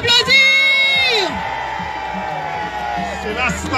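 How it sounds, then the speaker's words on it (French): An audience cheers and whoops loudly, with shouts over a steady wash of crowd noise and a voice speaking through it. "Est-ce qu'on peut l'applaudir?"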